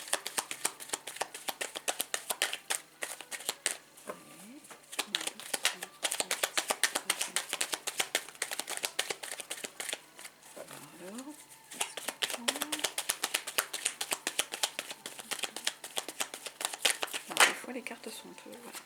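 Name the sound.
shuffling tarot cards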